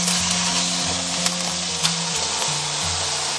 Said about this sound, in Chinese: 煎这个鸡排火不要开得特别大